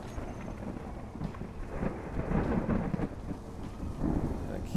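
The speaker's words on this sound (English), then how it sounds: "Yep, the thunderstorm started up now. Now I can definitely hear the weather down here." A thunderstorm in the video game Space Engineers brings low rolling thunder rumbles over a steady wash of rain, the rumble swelling and fading across the moment at moderate distance.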